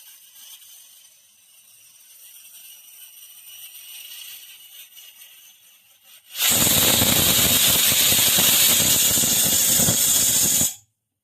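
A kitchen pressure cooker releases a sudden loud, sustained steam whistle that hisses steadily for about four seconds before cutting off, after a quieter stretch of low cooking noise.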